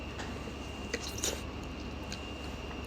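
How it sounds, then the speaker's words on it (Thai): Close, quiet chewing and biting of homemade kuay jab noodles, soft wet squishing sounds with a couple of slightly louder bites and no talking. "มาชิมเส้นกัน"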